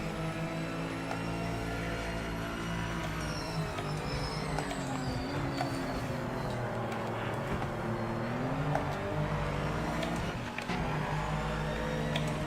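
A race car engine in the video game Project Motor Racing drones steadily with shifting pitch, a dense mechanical hum that continues without pause and no voices.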